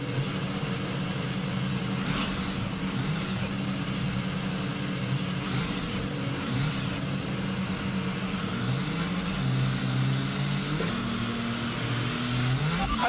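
An F1 car in the racing game F1 2022 accelerates away from a race start, its high-pitched engine note rising through repeated upshifts as it pulls away, loud and steady over the full stretch without speech.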